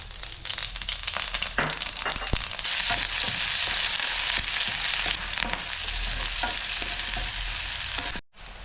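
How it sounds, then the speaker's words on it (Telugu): Tempering spices crackle and sizzle as they drop into hot oil for a ridge gourd milk curry, a loud, steady frying hiss with sharp pops and a stirring scrape, then a brief cutoff near the end. "నూనె వేడెక్కిందండి. తాలింపు దినుసులు వేసుకుంటాం."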